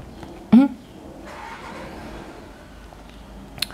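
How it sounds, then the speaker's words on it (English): A car door slams once, close and sharp, in a quiet summer setting near a lake, followed by near-silent background and a second, fainter knock just before the end. "Slamming of the doors of the cars."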